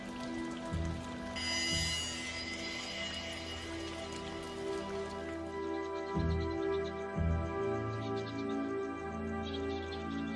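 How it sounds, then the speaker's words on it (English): Steady rain falls on a flying fox camp in the trees, a constant close patter with occasional chirping calls mixed in, no voices. "When rain falls, they draw closer together in their camp, using their wings as umbrellas."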